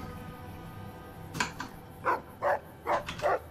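Dog barking in the video game Fallout New Vegas: a soft single yelp, then four spaced barks in a steady rhythm over a quiet background hum.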